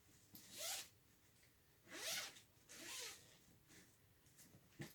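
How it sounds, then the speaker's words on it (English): Zipper on an expandable travel packing cube drawn shut in three quick, close, crisp pulls with short pauses between, followed by a fainter fourth tug, with no voices. "you can basically cut the volume of the bag in half by that extra little zipper"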